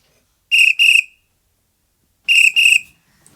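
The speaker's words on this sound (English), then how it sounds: "the policeman blew his whistle." Two quick double blasts from a policeman's whistle, each pair of shrill, piercing toots close and loud, separated by a second or so of silence.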